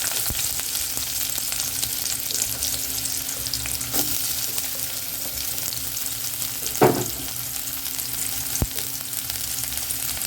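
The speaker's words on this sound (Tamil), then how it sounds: "எண்ணெய், வெங்காயம் போட்டலாம்." Onions frying in oil for a green gram kurma gravy, a steady broadband sizzle throughout with a few soft clinks and stirring knocks, no voices.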